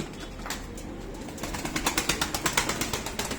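Tumbler pigeons take off after release, their wings clapping and flapping in a quick, regular run of beats that starts faint and grows louder and more distinct toward the end.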